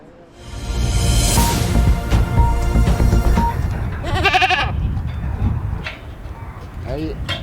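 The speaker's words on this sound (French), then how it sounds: "il faut faire les présentations avec la chèvre du Rove" Rove goats bleating on a farm in Provence, several loud wavering bleats in close succession, some overlapping, over a busy background.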